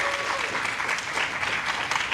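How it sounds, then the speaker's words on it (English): Audience applause at a university theatre festival fills a brief moment, a dense, even patter of many hands clapping close by with no pause. "Let's have another round of applause for all of our shows."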